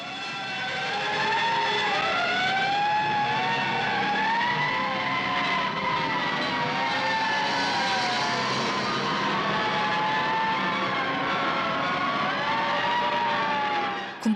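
A fire truck driven by a uniformed driver into a five-story apartment complex sounds its wailing siren, rising and falling continuously and clearly over a faint vehicle rumble.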